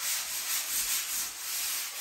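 Sandpaper rubs back and forth across patched plaster on an old chateau ceiling in a steady, rhythmic scratch, close and continuous with no voices.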